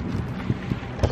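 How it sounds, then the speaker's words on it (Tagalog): Wind gusts outdoors buffet the microphone in a continuous low rumble, with a few brief louder thumps, close and fairly loud, and no voices. "mahangin pa."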